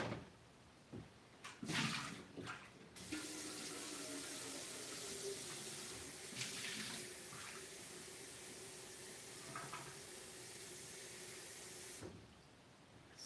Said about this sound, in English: I've just covered the container with enough water to cover over our lotus seeds